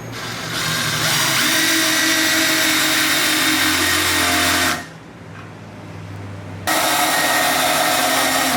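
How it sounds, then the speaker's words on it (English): A power drill bores holes through an RX7 diffuser fitted to an NC Miata, whining loud and steady for several seconds, stopping briefly, then starting again close by. "what I'm going to do now is drill 2 holes in each one of those slots"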